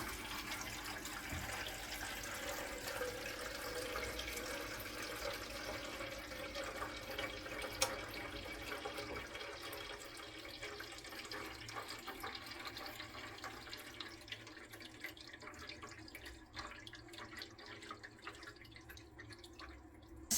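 Water flows and drips steadily inside a De'Longhi ECAM 650.85.MS espresso machine during a descaling cycle, a continuous moderate trickle with a small splash near the start, with no voices.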